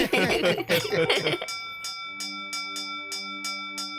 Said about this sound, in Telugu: లాంగ్ బెల్ అయిపోయింది